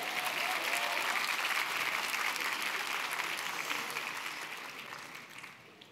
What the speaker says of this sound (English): let's give an applause to the people who are still standing.